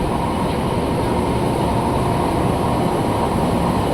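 An Indonesian KRL commuter train built by INKA passes close by as a steady, loud rumble of rolling wheels and carriages that continues without a break, and no one speaks.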